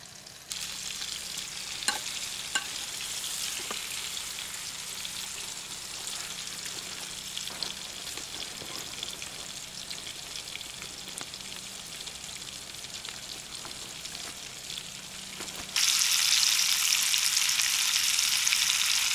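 Carp sizzling and frying in a pan at a reed-bed fishing camp, a steady dense crackle with scattered pops throughout, growing noticeably louder and brighter in the final few seconds, with no talking.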